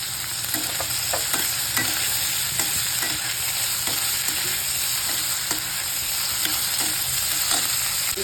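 Peas tossed into a frying pan of upma, a steady loud sizzle with continuous stirring and frequent scraping ticks of a spoon against the pan.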